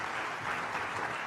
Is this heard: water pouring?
no